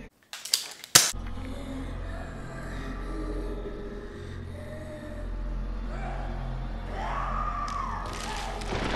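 Gunfire in the video game Bloodborne: a few sharp, loud shots clustered in the first second, followed by a sustained low rumbling game ambience with no further clear shots.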